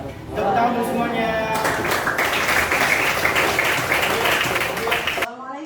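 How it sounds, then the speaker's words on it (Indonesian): A group claps at the end of a school coaching session, a dense burst of applause that builds and runs for several seconds under a speaker's voice, then cuts off abruptly. "Tepuk tangan untuk semuanya"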